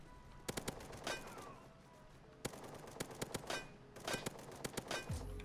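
Gunfire in the Roblox WWII video game: three loud clusters of rapid, sharp shots separated by short pauses, close and dominant, with no talking.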